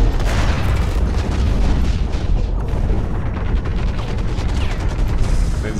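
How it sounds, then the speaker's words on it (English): Sustained heavy gunfire and booming from mech combat in the game Hawken, loud and continuous throughout with dense rapid reports and no speech. "There's people with their machine guns."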